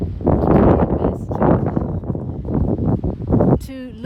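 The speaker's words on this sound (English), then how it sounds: "Oh, windy." Gusty outdoor wind buffets the microphone in a loud, uneven rumble that swells and dips across the whole stretch, ending with a brief tonal sound.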